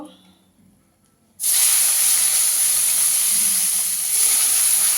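Cut eggplant hits hot mustard oil in a pan already used for frying fish, and after a brief quiet a loud, steady sizzling hiss bursts up and continues close by.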